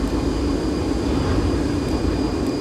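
Steady cabin drone of a BAC One Eleven airliner cruising in the Prepar3D flight simulator, a continuous loud low engine roar with broadband hiss and no talk over it.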